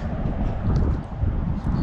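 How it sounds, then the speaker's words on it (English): Steady outdoor wind rumbling and buffeting the microphone, a low continuous roar with slight gusts throughout. "It's a little windy."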